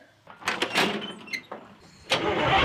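A 1979 GMC Cabover with a 2-stroke Detroit diesel engine cranking in uneven bursts, loud and close, with clunks between attempts and a final longer churning crank.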